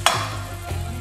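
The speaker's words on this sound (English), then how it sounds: "Now this is too hot, it's sizzling too high, so we need to turn it down." Garlic and ginger sizzle loudly in oil in a very hot pan during a restaurant-style chicken Madras, with a brief burst of stirring and steady frying hiss, close up and without talk.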